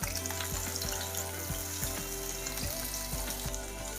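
Loud, steady sizzling and crackling of breaded chicken cutlets frying in a hot pan, close up, with faint clinks and no talking.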